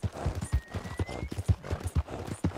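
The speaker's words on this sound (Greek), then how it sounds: "Το άλογο τα έχει φτύσει, έτσι." Horse hooves clip-clopping at a steady gallop in the video game Red Dead Redemption 2, a quick rhythmic run of close, fairly loud beats from a tiring mount, with no voices over it.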